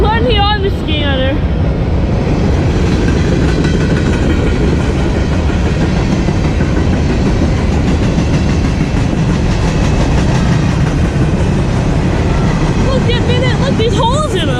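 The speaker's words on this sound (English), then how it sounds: "This is a long train." A long freight train rolls past continuously near North East, Pennsylvania, led by an EMD locomotive, with a steady loud rumble and rhythmic clickety-clack of wagons throughout, brief squeals at the start and end, and people talking over it.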